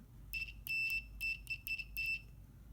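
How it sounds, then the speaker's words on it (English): A continuity checker beeps in short bursts while testing the mic jack of a Baofeng UV-5R handheld radio, with five or six clear, fairly loud electronic tones spaced unevenly over a quiet background. "continuity checker is on"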